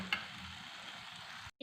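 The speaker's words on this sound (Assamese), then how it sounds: "মই তেল বিৰিঙি অহালৈকে পেষ্টটো ভাজিম" Spice paste for an egg curry fries in hot oil, giving a soft, steady sizzle throughout with one brief brighter crackle near the start; it is fairly faint and heard alone, with no voices.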